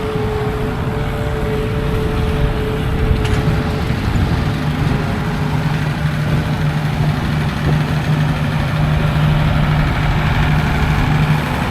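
A Massey Ferguson tractor engine idles steadily at a silage working day in West Cork, a constant low diesel rumble with a faint whine, close and loud throughout with no talk.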